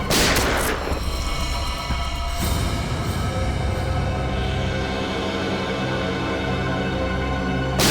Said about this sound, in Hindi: दया गोली चलाओ उस पर, चलाओ गोली